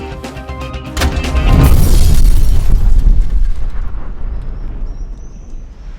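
A rocket launcher round explodes near a vehicle, a loud broadband blast that swells after a second, holds heavily, then decays into a long rumbling tail.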